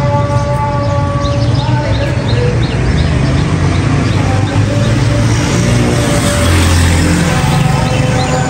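Road traffic keeps streaming past during a family Eid outing where children play cricket, a steady loud rumble of engines and tyres with occasional horn-like tones and faint chirps over it.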